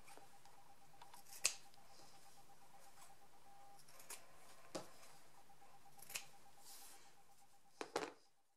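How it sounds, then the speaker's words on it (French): Scissors snip fabric corners of a patchwork bag in a quiet room: sharp, isolated cuts spaced a second or more apart, ending with a quick cluster of snips. "On va dégarnir un tout petit peu les angles avant de les retourner."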